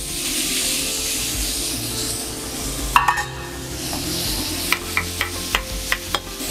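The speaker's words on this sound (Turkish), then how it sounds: "Ortayı boşaltıp bir parça daha tereyağı ekliyorum. Küçük bir parça ve soğanları ekliyorum." Onions sizzling and frying in a little melted butter in a pan, with steady crackling throughout and a few sharper stirring clatters of a utensil against the pan.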